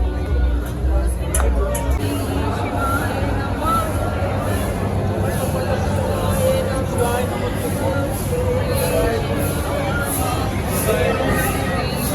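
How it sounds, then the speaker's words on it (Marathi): A dense crowd fills the Trimbakeshwar temple, a steady loud babble of many voices close around, with nearby people talking through it. "खूप म्हणजे खूपच गर्दी आहे."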